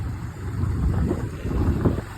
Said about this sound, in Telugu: ట్యాంక్ మీద కూర్చొని బైక్ డ్రైవ్ చేస్తున్నాను.